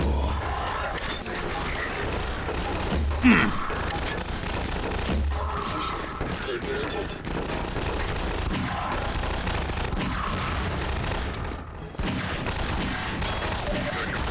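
Enemy gunfire in the video game Half-Life 2 Lost Coast, bursts of rapid shots and impacts repeating through a dense, noisy firefight.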